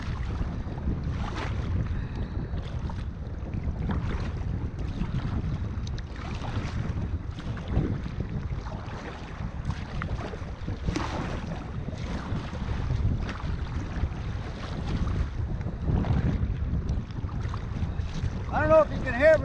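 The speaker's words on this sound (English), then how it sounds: "I don't know if you can hear me or not because of that wind." Strong wind buffets a small boat out on rough water around Drummond Island, roaring steadily into the microphone for the whole stretch with water sloshing underneath, and a voice faintly speaking through it.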